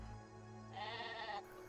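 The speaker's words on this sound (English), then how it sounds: "Yo, that sheep? What the sheep doing?" Sheep in the game Craftopia bleat once in a drawn-out, wavering cry over a steady low hum of game background sound, with no talk.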